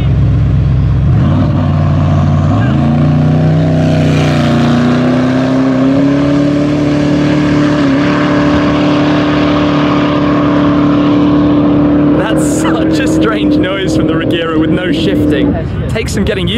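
Koenigsegg Regera and Pagani Huayra Roadster hypercars in a drag race: engines rise from a low rumble into a long, loud climbing roar at full load, with shift changes and sharp bursts near the end, under a talking voice.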